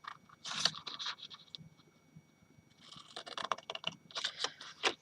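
Scissors snipping card to make a snowman tag box, a series of close crisp cuts in bursts with a quiet pause in the middle.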